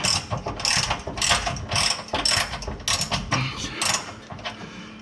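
A ratchet wrench removes shock bolts on a Ford F-350 truck, clicking in quick repeated bursts of pawl rattles, close and loud, with short pauses between strokes.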